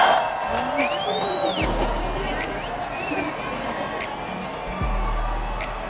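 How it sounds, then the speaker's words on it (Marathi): A dense Christmas Eve crowd fills the main square on MG Road, Pune, just before midnight. A broad, steady hubbub of voices and scattered whoops and shouts carries on throughout, with occasional whistles above the din. "आता MG रोडच्या मेन चौकामध्ये खूप गर्दी झालेली आहे."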